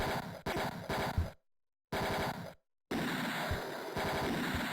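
Rapid enemy gunfire in the video game Mean Streets, dense crackling bursts of automatic shots broken by two short silent gaps, then continuing steadily, loud and close with no talking.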